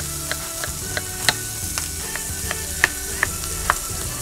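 Bacon sizzles in a pan for Hungarian lecsó, its rendered fat crackling steadily while a utensil scrapes and clicks against the pan at irregular intervals, close and clear with no talk.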